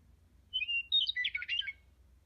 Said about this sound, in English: A bird just dropped the seeds in your garden.